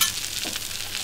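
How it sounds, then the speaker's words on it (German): Bacon-wrapped cheese frying in a pan until crisp on both sides, a steady close hiss of sizzling fat throughout the short stretch. "der wird jetzt von beiden Seiten schön kross angebraten"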